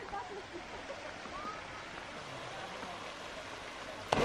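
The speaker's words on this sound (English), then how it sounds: "We actually decided to stop and check out this waterfall and the lake." A small waterfall by a lake makes a soft, steady rush of falling water, heard from a short distance at low volume. A brief knock comes just before the end.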